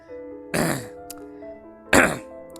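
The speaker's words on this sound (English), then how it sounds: "I hate that I keep needing to clear my throat in these videos." Someone clears their throat twice, a short rough burst near the start and another about a second and a half later, over soft steady tones.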